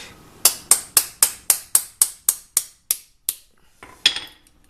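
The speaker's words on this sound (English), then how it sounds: "I'm going to smack it a little bit with the hammer" About eleven sharp metallic hammer strikes on a steel drift against a BMW R1200RT rear brake pin, evenly spaced and ringing, slowing toward the end with one last harder blow.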